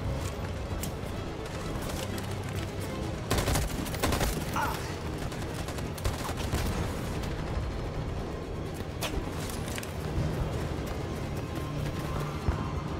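Covering gunfire in Detroit: Become Human, a steady, dense crackle of shots with a few sharper cracks standing out, lasting throughout amid a noisy battle backdrop.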